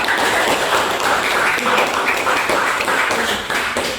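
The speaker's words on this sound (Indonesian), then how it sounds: "silakan tepuk tangan dong" A classroom of students applauding together, a steady, dense wash of many hands clapping close by for about four seconds before tapering off at the end.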